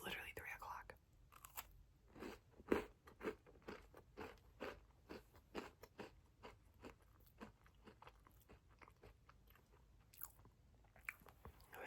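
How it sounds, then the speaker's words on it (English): Close, crisp crunching and chewing of a Crumbl cookie with toffee, rhythmic bites repeating steadily over quiet background, with faint soft mouth sounds. "I hope the chewing sounds sound good"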